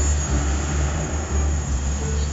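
A steady low helicopter drone with a rhythmic rumbling throb, loud and continuous as it hovers nearby in the game Garry's Mod, with no voices.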